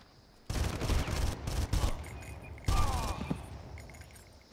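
Bursts of rapid gunfire from the video game Far Cry crackle in two loud volleys, the second trailing off with a ringing, ricocheting tail, then the scene settles into quiet ambience.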